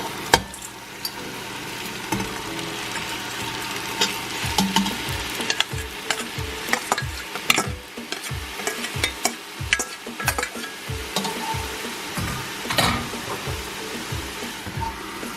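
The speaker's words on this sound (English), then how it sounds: "We're gonna mix this well, and then we're gonna add in our softened sweet potato noodles." Marinade and softened sweet potato noodles for japchae being stirred and tossed in a pan, with a steady sizzle under repeated scraping strokes and soft clanks, close and continuous.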